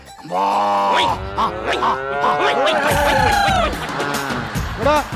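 A person imitates a buffalo's moo with a series of loud, drawn-out lowing calls, some rising and falling in pitch, close and clear, with brief grunts between them.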